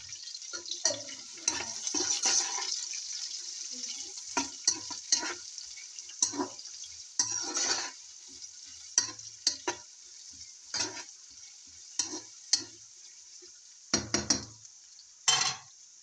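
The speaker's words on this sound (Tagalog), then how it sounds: "I already half fried this one, so I saute now garlic. Now we have to put now also these onions." Garlic and then onions sautéing in a pan for a Pakistani-style bitter gourd curry with meat, a steady low sizzle broken by clattering stirs and utensil knocks, loudest near the end.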